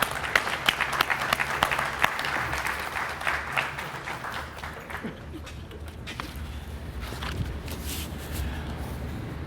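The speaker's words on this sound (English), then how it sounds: "Let's give him a huge round of applause." Audience applause at a TARC 45th anniversary celebration event in Louisville, a dense burst of clapping that gradually thins and fades over several seconds, with scattered cheers and crowd murmur underneath.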